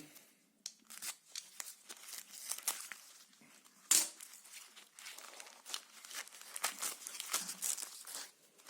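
Packing paper crinkles and rustles as it is unwrapped, close crisp crackling bursts with occasional sharper tearing-like snaps, continuing unevenly throughout without speech.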